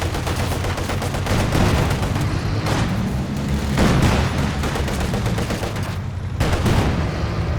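Dense gunfire and booming blasts roll on without pause during a tank battle in the World War II strategy game Company of Heroes 2, loud and continuous with heavy low rumble and overlapping shots.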